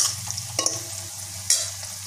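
Dried red chillies and onion sautéing in a pan for a water amaranth kootu, a soft steady sizzle with a couple of sharper stirring scrapes, close and alone.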